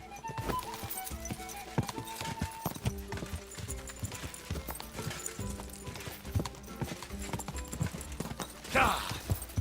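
Horse hooves clip-clop in a steady, continuous rhythm while riding in Kingdom Come Deliverance 2, close and moderately loud, with a brief louder rustling burst near the end.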